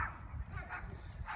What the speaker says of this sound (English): There's a lot of dogs in the neighbor are barking now